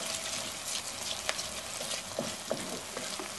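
Onion and garlic sauté in a pan with a steady soft sizzle, faint and close, broken by a few light clicks of a utensil stirring.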